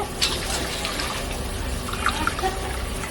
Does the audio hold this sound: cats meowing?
no